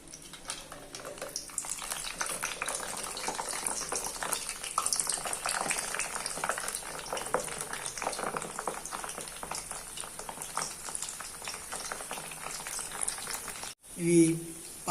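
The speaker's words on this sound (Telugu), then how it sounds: "పిండి ముద్దను పెట్టుకుని ఆయిల్లో వేసుకోవడమే" Murukulu dough made with milk and butter fries in hot oil, giving a dense, continuous bubbling sizzle at low volume, with a brief clatter just before the end.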